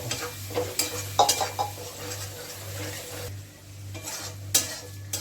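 Tomato, green chili and ginger paste fries in a pan with a soft sizzle, punctuated by sharp clinks and scrapes of a spoon against the metal, over a steady low hum.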